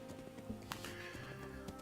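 Horse in Kingdom Come: Deliverance: quick clip-clop hoofbeats with a short whinny, fairly quiet and close.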